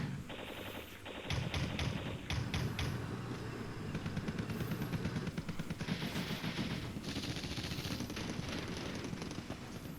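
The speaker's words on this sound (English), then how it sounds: "a lot of machine gun fire on the enemy unit" Machine gun fire in the war game Flashpoint Campaigns Red Storm comes as dense rattling bursts, with rapid overlapping shots and heavy booms that keep up almost without pause, loud and close.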